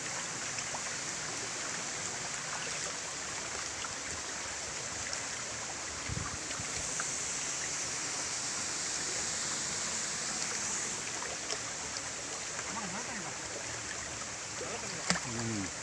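A forest waterfall and stream near Mui Ne, Vietnam, give a continuous, even rush of flowing water, faint and somewhat distant, with a few small knocks near the end.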